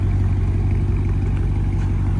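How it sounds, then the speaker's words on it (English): A deep, steady exhaust rumble from an idling 2020 Ram 2500 Power Wagon pickup truck engine, close and continuous, with no voices over it. "Here the exhaust has a little bit of a rumble on it."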